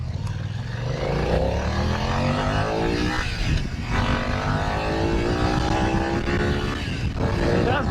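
A 2025 BMW F900R motorcycle engine drones and revs while riding, its pitch repeatedly sweeping upward through the gears with brief dips at shifts, loud and close under rushing wind.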